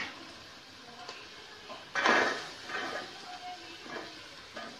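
Carrots tipped into a pan of oil and onions while cooking fried rice, giving a brief clattering rush followed by soft sizzling and stirring scrapes, fairly quiet.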